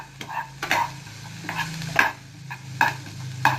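Carrots and green chilies cooking in a pan: a low background sizzle broken by repeated scraping strokes of a utensil stirring the vegetables, coming in irregular bursts roughly every half second to second.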